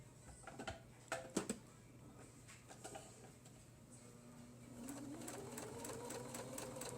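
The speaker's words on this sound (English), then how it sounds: "you're going to sew diagonally down each block on this machine" Sewing machine stitching diagonally across the blocks of a prayer quilt: faint irregular ticks and clicks, then a low steady motor whir rising in pitch near the end, all quiet and close.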